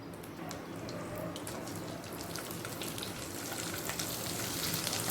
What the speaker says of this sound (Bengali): বাকি পনিরগুলো ভেজে নেব ঠিক একইভাবে